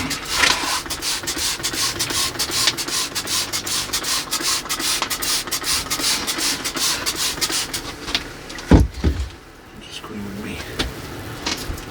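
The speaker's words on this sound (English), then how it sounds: "Toothbrush, just clean up any of the moss that's on the trunks already." Toothbrush bristles scrubbing moss off an elm trunk, a rapid rhythmic rasping that runs steadily for several seconds before a few knocks and a quieter stretch, close to the ear.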